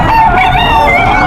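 Roosters and chickens at a cockfighting rooster market in Bocaue, Bulacan, a loud, close crow with some clucking over a busy background.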